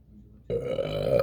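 A single loud, close burp breaks abruptly out of near silence and drones on for most of a second.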